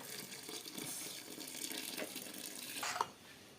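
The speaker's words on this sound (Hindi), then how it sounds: "अब इसके अंदर हम वो शीरे वाला जो दूध है वो हम मिक्सचर डाल देंगे" A sweet milk and syrup mixture pours into a dish in a soft, steady liquid stream, quiet and close, with a small clink near the end.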